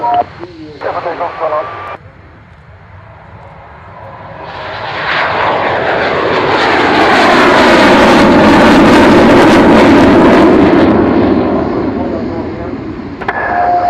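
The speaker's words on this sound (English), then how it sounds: "One of the earliest generations of indigenous Swedish jet fighters." An early Swedish jet fighter powered by a licensed de Havilland Ghost engine roars past, its sound swelling into a loud, sweeping jet whine and then receding, with a brief radio-like voice and crowd sound at the start.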